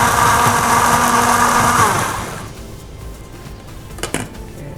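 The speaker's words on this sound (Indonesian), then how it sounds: "Ini tinggal kita blender, kita tunggu sebentar." Blender whirring through a Dutch eggplant (tamarillo) drink, a loud steady motor whine that runs for about two seconds, then winds down and cuts out, followed by a few light knocks in the quiet.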